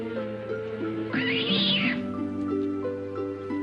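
A single drawn-out cat meow rises and falls over steady chiptune-style game music in King's Quest III Redux, clear and close for about a second.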